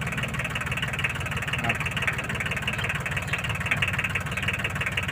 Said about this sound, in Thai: อันนี้เดินเครื่องรอบเบาสุดนะครับ